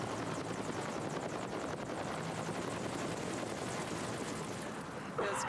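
A helicopter during military rescue training at an air force base drones steadily with a continuous rotor wash and whooshing noise, loud and unbroken throughout.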